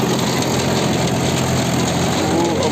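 Big Mahindra 575 4x4 tractor engine running steadily in a potato field, a loud, continuous low rumble close by with no break and no talk over it.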